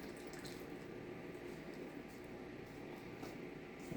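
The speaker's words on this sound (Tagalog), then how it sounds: "lagyan natin ng tubig." Water pours into a cooking pot for a food truck's pork siopao and asado, giving a steady, soft gushing splash that runs unbroken and fairly quiet throughout.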